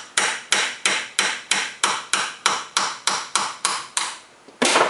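A hammer strikes a 1/4 inch socket extension to drive an old bearing out of a Harley Ironhead Sportster starter housing, about eleven sharp evenly spaced metallic blows, close and loud, with no talking.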